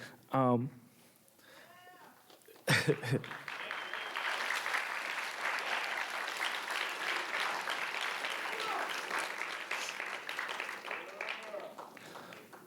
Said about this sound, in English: Thank you for those additional claps